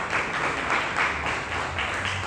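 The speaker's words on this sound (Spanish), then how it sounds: "Un aplauso para Caracas." Audience applause at a gathering about Caracas, a steady dense wash of clapping with gentle swells, moderately loud and continuous for the whole stretch with no talk over it.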